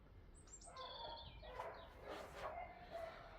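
Dogs bark in a few scattered bursts at moderate distance, over a steady background hum, with no one talking.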